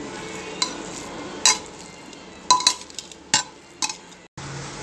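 Vegetable biryani mixed in a pot, with a spoon scraping and clinking against the metal in several sharp, irregular strokes over a faint background hiss, close up and without speech.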